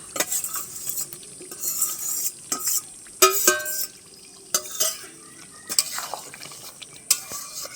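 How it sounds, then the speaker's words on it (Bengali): Potatoes tipped into frying mutton kosa and stirred with a metal spoon in a pan: a quiet sizzle runs underneath a series of sharp, irregular scrapes and clinks from the stirring, heard close and with no talking. "এবার আলুগুলো আমি দিয়ে দেবো।"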